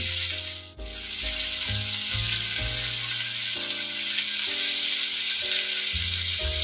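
Chicken shashlik sizzling loudly as heated vegetable oil is poured around it, a strong continuous crackling hiss with a brief dip near the start, then steady frying.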